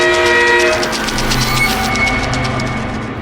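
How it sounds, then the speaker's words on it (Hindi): A monster train from the Choo Choo Charles video game approaches with a loud blaring horn over rumbling wheels and clickety-clack, sounding close and then trailing off slightly at the end. "शायद ये चूचू चार्ल्स ही है जो अपनी सीटी की आवाज सुनकर भागा चला आ रहा है।"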